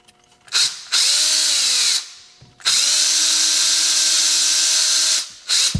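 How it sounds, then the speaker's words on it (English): A power drill whirs in two long bursts, spinning up and holding a steady high whine, then a short third burst at the end. "I do like to drill the pilot hole that needs to be threaded first"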